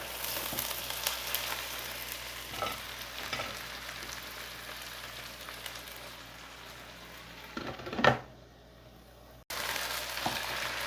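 Chicken pieces frying in a covered pot for biryani, a steady close sizzle and crackle with a few soft stirring scrapes and a brief clatter near the end.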